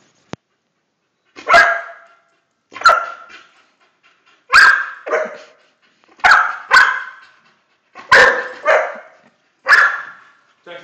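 A dog barking on command, with sharp, loud, close barks coming singly and in quick pairs at regular intervals, separated by silence.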